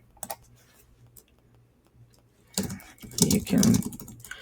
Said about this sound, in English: For example purposes, I'm just going to type in a quick answer.